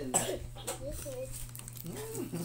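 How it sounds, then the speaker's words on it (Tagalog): A child coughs a few times close by, with soft speech around the coughs in a quiet room. "Sasabihin na naman dyan na matagal na po yung ubo niya."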